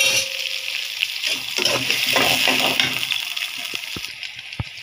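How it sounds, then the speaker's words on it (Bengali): Spiny gourd (kakrol) and onion frying in a pan, a close hiss and sizzle with stirring scrapes and a few sharp utensil taps near the end, no voices. "এটা ভাজি করব।"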